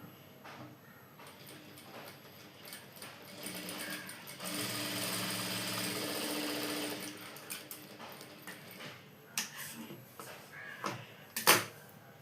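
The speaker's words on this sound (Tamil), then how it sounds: "இப்போ எப்படி தையல் பண்ணுறதுன்னு பார்க்கலாம்." A sewing machine stitches a blouse front piece, running in a steady close whirring burst for a couple of seconds between quieter handling clicks and fabric rustles.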